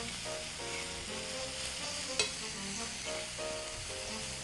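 Mushrooms fry in hot oil with a steady, close sizzle and crackle while a utensil stirs them, scraping and clinking now and then against the pan.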